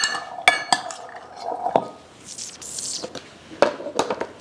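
Beans are scooped into glass jars, making a series of clinks and scrapes of utensil against glass at close range with soft rustling between, and no speech.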